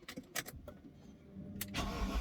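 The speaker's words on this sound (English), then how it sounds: "Right, let's start the car up." A BMW 8-Series engine cranks with a few quick, rhythmic turns, then catches and settles into a loud, steady idle close by.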